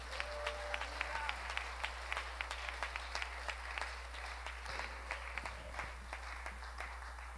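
A church congregation applauding, a sustained spread of many hands clapping at an even level, with a low steady hum underneath.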